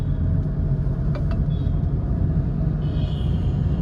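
A car on a driving lesson runs with a steady, close engine rumble and road noise throughout, a few faint clicks and a light whine rising near the end, with no clear talk.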